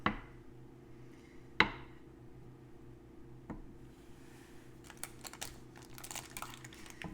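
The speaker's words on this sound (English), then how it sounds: "I'm going to create my squares in the pan and scoop them out" Cutting squares in a pan of fake abscess mixture and scooping them out: a few sharp taps of a utensil against the pan, then a run of soft scraping and crinkly scooping near the end, close and quiet.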